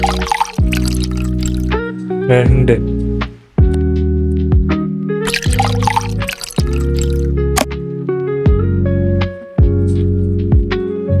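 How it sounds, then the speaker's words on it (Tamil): Water pours into a pot, two cups measured out for spicy Maggi noodles. Splashing and trickling come close by with clinking metallic tones, and a voice speaks briefly. "மேகி செய்கிறதுக்கு முன்னாடி இதில் 2 கப் தண்ணி ஊற்றிக்கலாம்"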